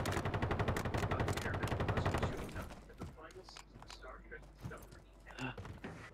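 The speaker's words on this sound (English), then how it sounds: "It's a bullet" A fast, loud volley of automatic gunfire in a ranked match of the battle royale game Call of Duty: Warzone, dense for the first couple of seconds before giving way to quieter scattered sounds and players talking.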